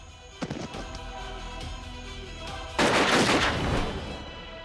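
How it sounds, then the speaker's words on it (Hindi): A few sharp gunshot cracks ring out, followed by a louder, sustained burst of rapid fire that fades into a rumbling tail. "सर आप अपने ऑफिसर पे गोली चलाएंगे?"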